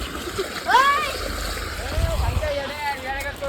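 Water splashes and sloshes nearby while people talk over it, with a brief louder splash near the start.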